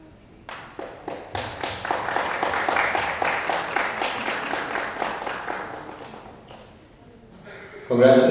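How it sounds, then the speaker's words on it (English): An audience gives a round of applause at an event, the clapping quickly swelling into a brisk, even patter, holding for several seconds, then thinning and dying away before a burst of other noise at the end. "A big round of applause for her."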